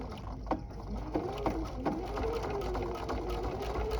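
A sewing machine stitching quilt binding with a Viking left edge topstitch foot, a steady close mechanical whir with light rhythmic clicks.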